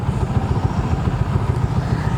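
A Rusi Classic 250 FI motorcycle's single-cylinder engine runs steadily at close range, a throbbing low pulse without any talk.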